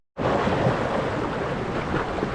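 Rushing whitewater of the Swift River rapids in New Hampshire's White Mountains, a loud, steady broadband roar of strong current that starts abruptly and holds close to the microphone.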